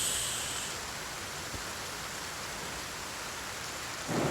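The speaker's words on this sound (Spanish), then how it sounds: "Encima está cayendo la de Dios. Se largó la lluvia." Steady rain pours down in the Force of Nature 2 survival game, a dense, even wash of drops at moderate level, with a faint thunder rumble and a brief swell in intensity near the end; no one speaks.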